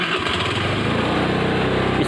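A motorcycle engine revving and pulling away on a village road in Indonesia, a close, loud, buzzing high-pitched drone that holds steady throughout.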